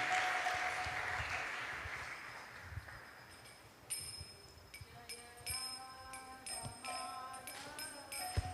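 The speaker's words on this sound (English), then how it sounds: "So let's give a big round of applause once again" Applause from a devotional gathering at a Balarama Jayanti celebration, a soft, steady wash of clapping that fades down, with faint chiming bell-like tones entering partway through, no speech over it.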